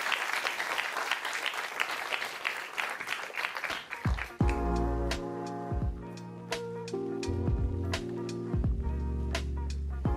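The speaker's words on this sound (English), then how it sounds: "let's give another round of applause" At a wine tasting event, an audience applauds for about four seconds, dense and fairly close, before the clapping thins to scattered claps as music with sustained tones comes in underneath.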